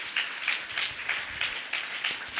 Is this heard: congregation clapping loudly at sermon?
yes